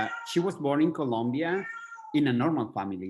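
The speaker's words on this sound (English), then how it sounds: "Sorry about my cats." Pet cats meow loudly and repeatedly in a home during an online classroom call, long drawn-out mewing cries in two bursts, close to the microphone and overlapping someone speaking.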